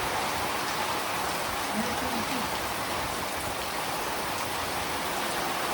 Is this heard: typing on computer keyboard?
no